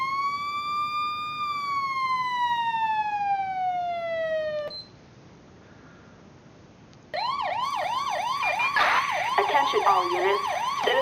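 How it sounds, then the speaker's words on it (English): A loud synthetic fire engine siren in a video game wails in long falling sweeps, cuts out briefly, then returns as a fast warbling yelp, close and steady. "Siren number 3."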